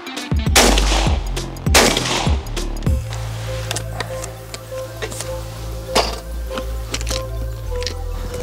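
A Turkish Altobelli double-barrel shotgun fires three sharp, loud shots in quick succession close by, then mechanical clicks and ticking follow over a steady low hum.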